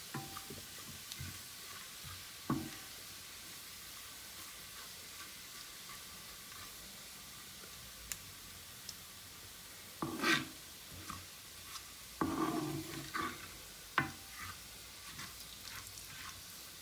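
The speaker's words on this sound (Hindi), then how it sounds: "थोड़ा सा मैंने जीरा ऐड कर दिया है, इसको हम लोग हिला लेंगे और चंद सेकंड के लिए इसको भी फ्राई करेंगे" Quiet, steady sizzling of seeds frying in oil, with occasional clinks and scrapes of stirring.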